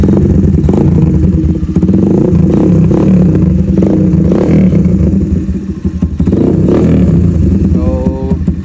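Kawasaki Barako scrambler motorcycle fitted with a bullet pipe revving hard and steadily close up, a loud continuous engine roar with brief throttle dips and clattering mechanical noise throughout.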